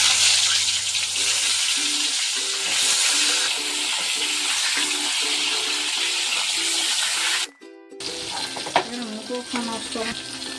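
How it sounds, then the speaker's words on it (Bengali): Pieces of pointed gourd (potol) sizzling and crackling steadily in hot oil in a pan, a loud continuous fry with a brief pause, then lighter spattering as cooking resumes. "এবার পটলগুলো ভেজে নিচ্ছি।"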